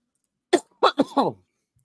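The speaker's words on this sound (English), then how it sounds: "pardon me, viewers, for this cough. It's a very annoying cough." A short burst of several harsh coughs in quick succession, close and fairly loud, then silence.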